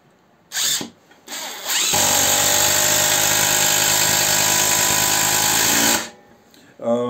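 Parkside PDSSAP 20-Li B2 cordless impact wrench set to its highest torque, driving a 160 mm bolt of 10 mm diameter: two short bursts, then one loud, steady whirring run of about four seconds that stops abruptly.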